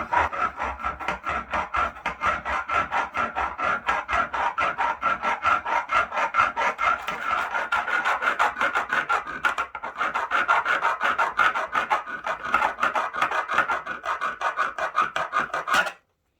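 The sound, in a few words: sawing a coffee and walnut cake in half with cake saw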